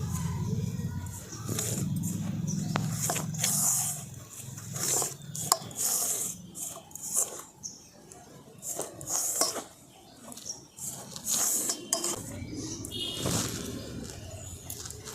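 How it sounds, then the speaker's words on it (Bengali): Dry ingredients, sugar and sour yogurt being rubbed and mixed by hand in a metal bowl for a pea recipe, making scraping, clattering bursts with brief pauses and a voice talking now and then. "সমস্ত শুকনো উপকরণগুলো আমি খুব ভালো করে আগে শুকনো অবস্থাতে মেখে নেব"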